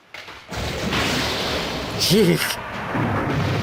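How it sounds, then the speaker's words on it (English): Thunder rumbles through a horror game's storm scene in Corpse Party: Book of Shadows, a sudden loud, deep roll that swells and lingers for a few seconds, with a brief voice-like tone in the middle. "Lightning flash and thunder resounded with impeccable timing"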